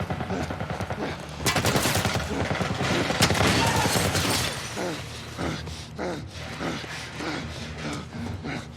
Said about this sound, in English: What the fuck are they shooting at us with? Some kind of military turret.